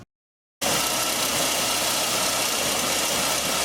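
2002 GMC Sonoma engine idling with a misfire, heard up close after a moment of silence as a loud, steady, rough running hum that fills the rest of the clip.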